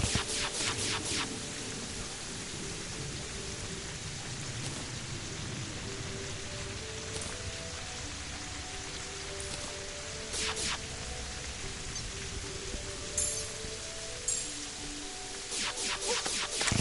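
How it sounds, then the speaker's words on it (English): Steady rainfall in the video game Terraria, a constant hiss with pattering drops and a low rumble of thunder underneath, heard alone, with a few brief sharp ticks scattered through. "I can't do anything about the rain anyway"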